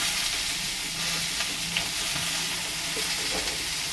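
Cumin seeds crackle and sizzle as they hit hot oil, a steady close frying hiss with small pops, while a Bengali dish such as shukto is cooked.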